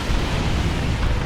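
Doom Bolts spell exploding in the real-time strategy game Dawn of War 2 during a Chaos Space Marines versus Orks battle, a dense rumbling blast that rolls on loudly for about a second with no speech.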